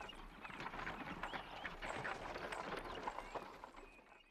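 Hooves of a horse pulling a carriage clip-clop in a fast, continuous patter in a cartoon, fairly close and steady, with no talking over them.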